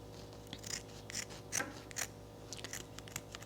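Scissors snipping through faux fur fabric to shape a gnome beard, a series of close, crisp cuts spaced irregularly with no talking.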